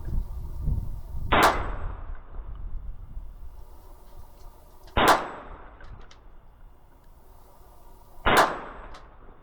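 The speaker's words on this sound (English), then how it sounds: "So I'm going to shoot just 3 rounds to make sure it cycles. Hopefully I'll hit the plate." Three sharp gunshots from a KelTec PMR 30 pistol at an outdoor range, spaced a few seconds apart, each loud and crisp with a ringing tail, the rounds striking a steel plate about 15 yards away.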